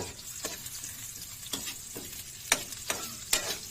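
Papaitan isaw (intestines) frying in a pan, a steady sizzle broken by sharp crackles and pops, with occasional stirring scrapes, close and moderately loud.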